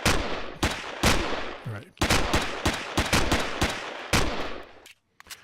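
Gunfire in the sci-fi survival game Empyrion, inside an abandoned mine: loud, close bursts of rapid shots in several volleys with short pauses, and a brief spoken word between them.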